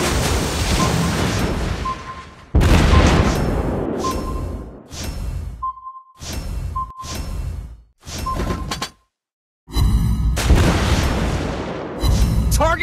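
Naval gunfire in the World of Warships Blitz game with a Tier 7 Pan-Asia destroyer: loud repeated cannon booms and explosions in bursts separated by short gaps, with brief tonal alert beeps between them.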